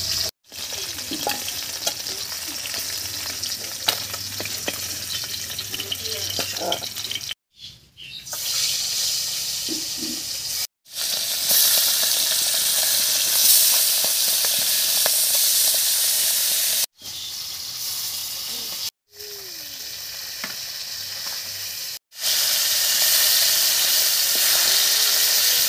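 Fish frying in hot oil in a home kitchen, a loud continuous hiss and crackle of sizzling that runs throughout, broken by several short gaps, with occasional stirring and clinking.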